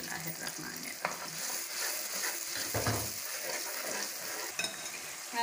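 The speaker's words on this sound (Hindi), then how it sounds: "3 से 4 मिनट हो गया मुझे मसाले को भूनते हुए" Masala spices fry for a potato curry (aloo bhujia), giving a steady close sizzle broken by scraping stirs and an occasional clink of the utensil against the pan, with no talking.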